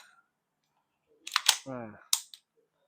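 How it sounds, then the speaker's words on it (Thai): A KJ Works CZ Shadow TS2 gas blowback BB pistol, low on gas, fires: a few sharp snapping clicks close by, with a short voice sound between them in otherwise quiet surroundings. "ยิงสไลด์มันถอยได้ครึ่งหนึ่งนะครับ"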